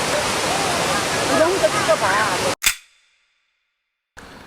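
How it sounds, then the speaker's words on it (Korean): Cheonjiyeon waterfall on Jeju Island roars as a loud, steady rush of falling water, then cuts off abruptly with a sharp knock, followed by near silence before faint noise returns. "폭포가 엄청나게 강입니다"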